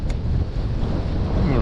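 Wind on the Pechora river buffets the microphone with loud, continuous low rumbling gusts, while water laps and rushes near a boat.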